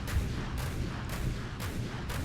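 Torpedoes striking ships in a naval ship-building combat game, a run of heavy booming explosions arriving in a steady pulse about every half second, loud and close with a dense rumbling tail.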